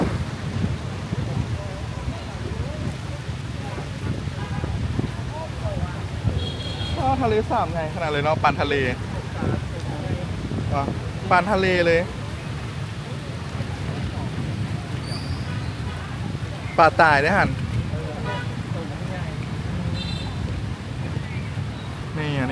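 Strong wind on the lake beside Tran Quoc Pagoda in Hanoi buffets the microphone with a constant low rumble throughout, while people talk over it.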